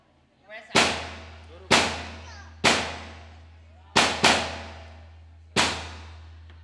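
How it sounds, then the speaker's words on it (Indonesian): Six loud, sharp firecracker bangs at uneven intervals, each ending in a short decaying tail, with a steady low hum underneath between the blasts. "Delok mercon sik mi."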